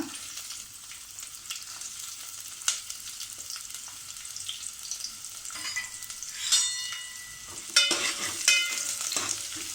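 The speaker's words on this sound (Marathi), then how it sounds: "थोडा कांदा आपला परतून घेऊया. गुलाबी रंग येईपर्यंत आपल्याला कांदा परतून घ्यायचा आहे." Onion sautés in hot oil with curry leaves for a clam curry, a soft steady sizzle with occasional stirring scrapes and brighter crackles, close and moderately quiet.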